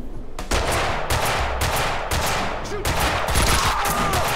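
Sniper rifle fire in Max Payne 2, several loud sharp shots spaced about half a second apart with echoing tails, mixed with other gunfire and a brief voice.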